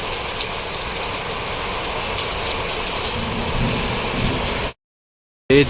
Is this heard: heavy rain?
yes